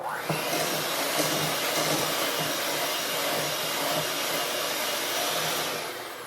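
An electric mixer beats apple cake batter in a bowl with a loud, steady whirring drone that runs for about six seconds before easing off slightly at the end.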